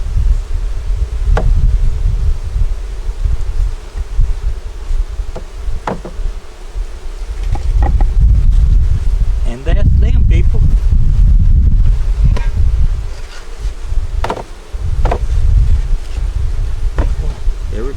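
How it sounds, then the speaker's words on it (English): Honeybees buzz steadily close by around a hive, with bursts of wind rumble and a few soft knocks mixed in. "Got a few bees down here."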